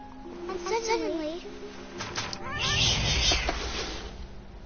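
A cat meows in a rising, wavering cry, followed by louder rough, growling noise, with some voice mixed in.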